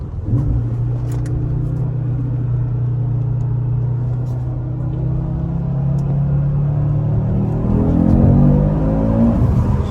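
An Audi RS3 engine holds a steady low drone, then rises in pitch as it accelerates near the end, loud and close with no speech.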